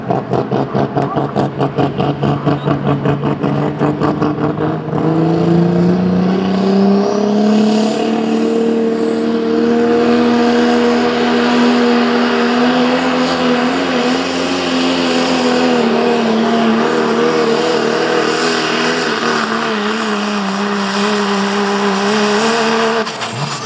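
A super modified pulling truck runs a high-horsepower truck pull at the Listie Grove Thunder event, and its engine roars loud and sustained for over twenty seconds, the pitch climbing and then holding steady as it labors down the track.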